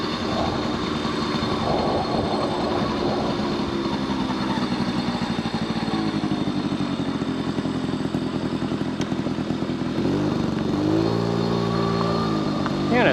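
A 1979 Honda Express two-stroke moped engine runs steadily with a constant buzzing drone throughout, fairly loud and close, and the pitch shifts slightly near the end.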